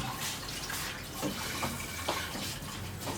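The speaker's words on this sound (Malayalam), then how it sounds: "വെള്ളം ഒഴിച്ചോ?" Water is poured in a home kitchen during fried rice preparation, a steady splashing, running stream with a few brief gurgles, continuous and fairly close, with no talk over it.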